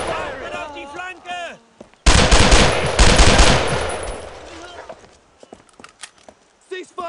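Machine gun fire in the WWII shooter Brothers in Arms: Road to Hill 30 erupts in a loud sustained burst that trails off into scattered shots, with soldiers shouting before and after.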